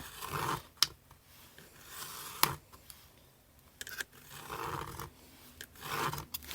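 Craft knife slicing through paper for an envelope book, several short rasping cuts up close in separate bursts with quiet gaps between, no voices.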